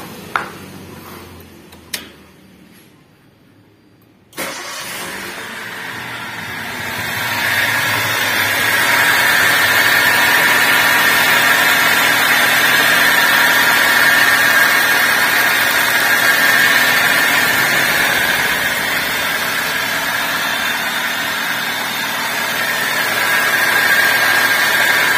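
A Toyota Avanza engine with a rough, grinding-like noise cranks after a few clicks, catches and settles into a steady idle that carries a harsh, scraping hum, close and continuous with no speech.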